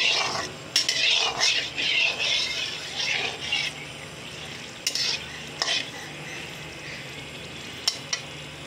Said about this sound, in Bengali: ভালোভাবে ভাজা হয়ে গেলে শুকনা মরিচটা ভাজতে ভাজতে তেলটা প্যানের চারিদিকে একটু সরিয়ে নেব।